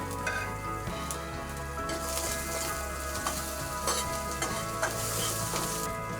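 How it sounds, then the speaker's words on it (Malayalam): Ginger added to onions browning in hot oil crackles and sizzles steadily, with stirring scrapes and spoon knocks against the pan throughout, close up and without speech. "ഇതിലേക്ക് ഇഞ്ചി ഇട്ട് കൊടുക്കാം."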